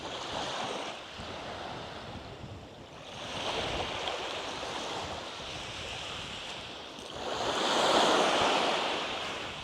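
Waves washing steadily onto the shore of a quiet cove at Mazı Ilgın Koyu near Bodrum, surging in broad slow swells with the loudest wash near the end, plus a breath of wind noise, with no voices.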